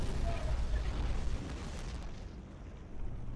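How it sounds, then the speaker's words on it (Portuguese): A nuclear explosion in the video game Black gives a loud, sustained low rumbling roar that eases slightly and then swells again, filling the whole stretch without any voices. "Explosões nucleares"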